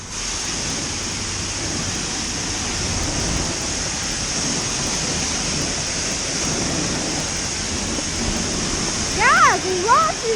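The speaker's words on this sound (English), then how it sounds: "He's washing off the car." Water sprays and rinses over a car at a car wash, a steady, fairly loud hiss of spray running unbroken for about ten seconds, with a brief voice cutting in near the end.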